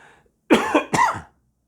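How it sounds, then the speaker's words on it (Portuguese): Two harsh, close coughs follow one another in quick succession from a man reading Scripture aloud, loud and isolated against near silence. "essa tosse ainda está persistindo"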